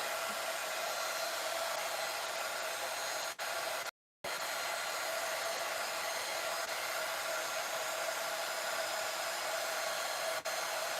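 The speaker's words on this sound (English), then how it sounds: "So it's gonna be loud for a sec while I heat set this." Heat tool roaring steadily while heat setting a craft journal piece, a loud continuous blowing drone broken only by a brief gap.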